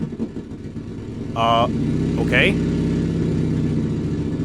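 A 4-rotor rotary engine in an Engine Simulator game runs steadily with a rough, buzzing drone, rising slightly partway through, while a person speaks briefly over it.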